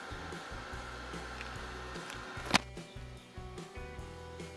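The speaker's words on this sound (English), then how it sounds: "I'm using a desoldering gun. This heats and then sucks the solder out." A desoldering gun heats and draws solder off the battery joints of a BMW key fob circuit board, giving a steady close hum like a small blower with one sharp snap of suction midway.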